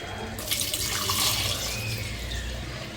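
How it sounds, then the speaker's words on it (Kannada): Water is poured into cooked masala for kadlekalu (chickpea) sambar, a soft steady splashing and trickling stream close by that starts after a brief pause and continues at low volume. "ಈಗ ನೀರನ್ನ ಹಾಕ್ಕೊತಾ ಇದ್ದೀನಿ."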